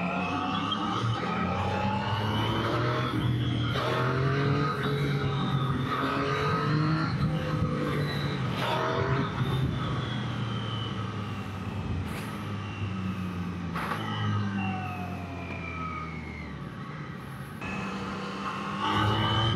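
Triumph Daytona 660 sportbike engine while riding, a continuous loud drone with shifting pitch as revs rise and fall, shifts breaking the tone through the ride, plus wind noise and no talk.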